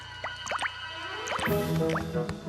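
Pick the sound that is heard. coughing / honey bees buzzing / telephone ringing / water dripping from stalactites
water dripping from stalactites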